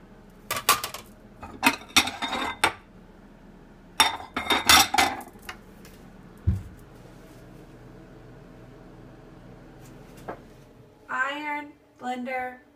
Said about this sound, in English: Two sets of dishes.